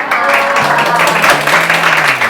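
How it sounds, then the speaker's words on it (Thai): Studio audience applause for two guests on a Thai television show, a dense steady patter of many hands filling the whole stretch, loud and close, with a voice talking over it. "ขอเสียงปรบมือให้คุณหมอของขวัญฟูจินิรันและคุณโอทองไทยนะครับ"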